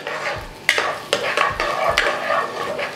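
Small coconut pieces tossed into hot ghee in a kadai, loud close scraping stirs and clinks over a crackling sizzle.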